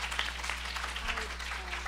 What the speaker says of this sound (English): Please give a round of applause to our publishers